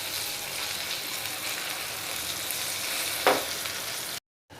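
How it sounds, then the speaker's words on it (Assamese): Flat beans (urahi) fry in a pan with a steady, even sizzle, close and continuous, broken by one brief stir, then a sudden cut to silence near the end. "আৰু এয়া চাওঁ উৰহিখিনি ভাজা হৈ গৈছে"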